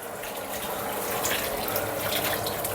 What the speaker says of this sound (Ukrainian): набирає е, воду більше 50 градусів